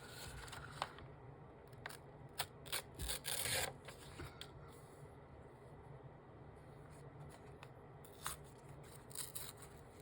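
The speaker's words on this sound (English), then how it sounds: "So then I'm going to tear this particular signature." A paper signature from a book is torn in short, quiet rips and scratches, with one longer tear in the middle, close up over a low steady background hum.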